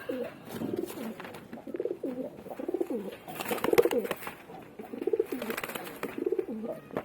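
A black-green female pigeon gives repeated soft, rolling coos at a relaxed, regular pace, close by, with faint rustling and handling noises in the background.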